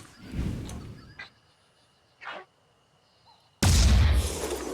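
Sniper rifle shots in the video game Phoenix Point, a few sharp booming reports separated by near silence, closing with one loud sustained blast.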